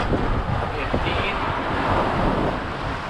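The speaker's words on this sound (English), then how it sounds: "how big would you say these waves are?" Wind gusts and rough sea waves roar around a sailing boat on open water, a loud continuous broadband rush with buffeting wind on the microphone throughout.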